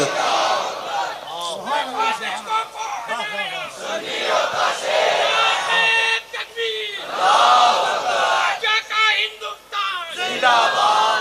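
A crowd at a religious speech roars back a takbir slogan in unison, loud, sustained massed shouting from many voices that swells and falls in waves over several seconds.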